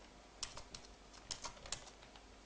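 Commands typed on a computer keyboard, a quiet irregular patter of close key clicks over a low background hum, with no voices.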